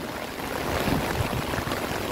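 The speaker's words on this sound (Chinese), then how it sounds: "但是那个水沟流下来，刚好形成一个瀑布。" Water running off a ditch and spilling down as a small waterfall in Tainan during heavy rain, a continuous nearby rushing and splashing with no voices.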